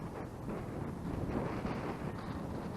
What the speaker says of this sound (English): So now we're facing into the wind. It's a rather nice breeze.